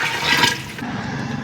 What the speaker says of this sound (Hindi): ये 3 किलो इसमें पानी डालेंगे।